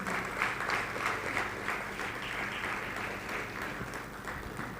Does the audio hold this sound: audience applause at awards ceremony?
yes